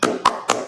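Schoolchildren clap a rhythmic spirit chant in class, three sharp beats at an even pulse, close and punchy, each one trailing a brief room echo.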